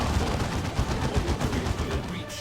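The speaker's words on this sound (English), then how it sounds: "Side cannons for those interceptors." Side cannons on interceptors fire in a Dawn of War 2 3v3 match, a dense, continuous rattle of rapid gunfire blending with battle noise, loud and close throughout.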